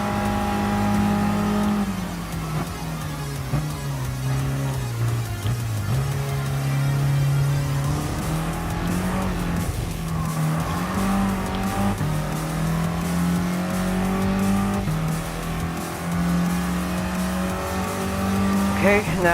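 An Abarth 1500 Biposto Bertone race car engine in Gran Turismo Sport keeps up a steady, droning note that rises and falls with the throttle. The engine is loud and continuous, with tire noise in places and someone commentating over it.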